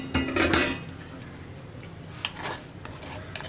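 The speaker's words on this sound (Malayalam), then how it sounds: "ഇടയ്ക്ക് തിള വരുന്നുണ്ട്, ഞാനൊന്ന് ഇളക്കി കൊടുക്കുകയാണ്, ഇല്ലെങ്കിൽ തിളച്ചു പോവും." A spoon stirs ash gourd pachadi with curd heating in a clay pot, a few scraping knocks against the pot early, then quieter scrapes and taps.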